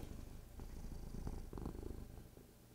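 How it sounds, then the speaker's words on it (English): A male cat purring steadily and close by in a home, a soft continuous rumble with slight rhythmic pulsing, nobody talking over it. "He's still purring."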